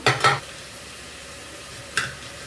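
Tomatoes and beans hit a pan for a Bengali chicken stew, giving two quick scraping, sizzling stirs at the start and another short one near the end over a low, steady hiss.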